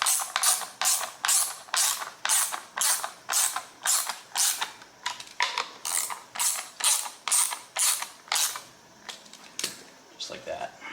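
A wrench ratcheting while bolting a self-propelled drive cog onto the rear wheel of a John Deere 14SE push mower: close, sharp clicking strokes in a steady repeating rhythm, each burst ending in a short pause, with a voice talking intermittently.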